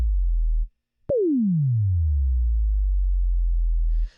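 A slowed-down sine wave from the Vital synth follows a low bass tone and a short gap. It sweeps sharply down in pitch from a bright start to a deep rumble over about two seconds, then sustains low, clean and alone.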